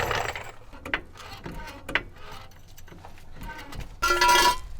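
Jacking up a 1984 Volkswagen Vanagon, with a series of irregular metallic clicks and ratcheting knocks from the jack close by, ending in a louder burst of clanking.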